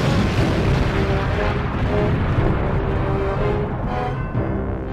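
A Little Boy atomic bomb explosion, heard as a loud, continuous, rumbling roar that fills the whole clip, gradually thinning and fading slightly toward the end.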